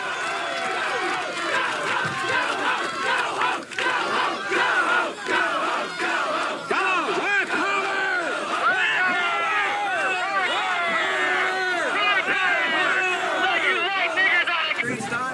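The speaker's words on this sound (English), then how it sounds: "Russell tried to speak to a hostile crowd" A hostile white crowd at a rally shouts and jeers in a dense, continuous roar of many overlapping voices, with rising and falling yells packed closely together throughout.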